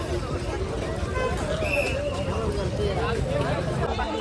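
A crowd at a temple in Kharoshi on the fifth day of Navratri: general babble of many voices with nearby talk and faint traffic blended into a continuous murmur.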